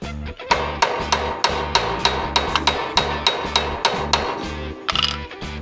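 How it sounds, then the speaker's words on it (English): Hammer peening a metal part during a John Deere X520 mower PTO clutch and crankshaft repair, a steady series of sharp ringing metallic strikes, roughly two per second, close and clear with no talk. "See if I can peen that with a hammer maybe"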